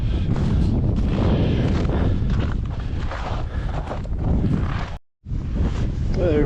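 Wind at about 10 mph on a frigid day, ten below, buffets the microphone in a loud, continuous rumbling roar with one brief dropout near the end.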